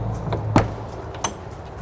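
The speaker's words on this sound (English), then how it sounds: "It is a friction hinge door." The friction-hinge entry door of a Coachmen Freedom Express RV being handled, giving a sharp thud or click followed by a second lighter knock about a second later, close by with no talking.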